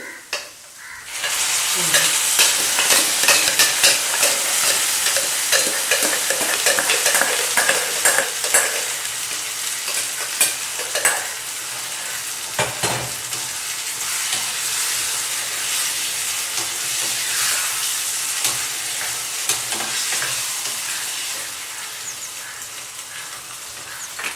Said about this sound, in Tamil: வெங்காயம் நல்லா வதக்கிட்டு நம்ம கடைஞ்சி வச்சுருக்க கத்திரிக்காயை இதில் எடுத்து